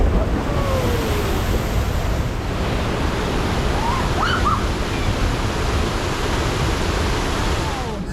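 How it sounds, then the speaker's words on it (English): Water rushes and splashes at the Flume Ride at Liseberg amusement park, a loud, continuous broadband roar of churning spray and surf-like wash with wind buffeting the microphone. "Here comes the Flume Ride."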